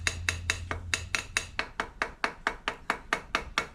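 A screwdriver taps sharply and repeatedly on the float bowl of a Kawasaki G5 two-stroke motorcycle carburetor, about fifteen crisp metallic knocks in a steady quick rhythm, close and clear, with a low hum under the first part.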